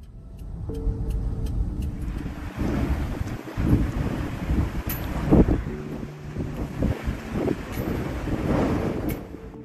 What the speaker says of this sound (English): Extreme wind chills are present, combined with greatly limited visibility and blizzard-like conditions.